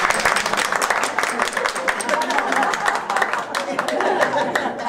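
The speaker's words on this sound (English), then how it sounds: "You might want to give them a little bit of applause" Dinner guests at a movie-star dinner tour applaud the servers. The clapping is loud and dense and continues throughout, mixed with crowd chatter and light chuckles.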